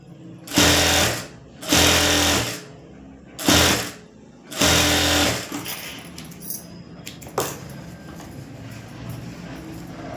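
Sewing machine stitching the folded hem of an embroidered blouse, four loud whirring bursts with short pauses between, then quieter clicks and handling noises.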